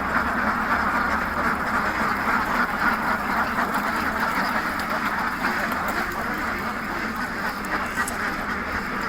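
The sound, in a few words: ducks quacking on a duck farm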